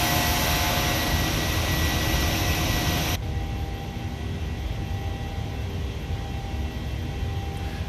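Jet engines of a Boeing 737-700 in Microsoft Flight Simulator climb out after takeoff, a loud steady broadband roar that suddenly drops to a quieter, duller hum partway through and continues evenly without speech.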